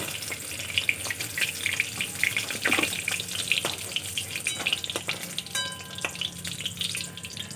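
Pointed gourd (potol) slices frying in oil in a pan, a close crackling sizzle with scattered pops and brief stirring clinks, loud and continuous with no talking.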